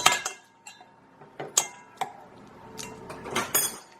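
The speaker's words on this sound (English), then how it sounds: "now we are just whisking together" Ingredients mixed in a bowl during fall home baking, with intermittent clinks and clangs of a utensil against the bowl, scattered sharp knocks separated by quiet moments, close by and with no talk.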